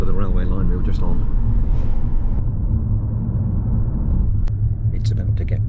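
Steady low engine rumble and road noise inside a car driving alongside a railway line in China near Jinshan, continuous and fairly loud throughout, with faint voices now and then.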